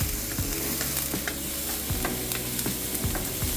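Onions sauté in a pan for a Goan pork dish with a steady, close sizzle, broken by regular scraping stirs.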